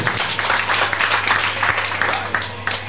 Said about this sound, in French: Et on applaudit encore l'ONG.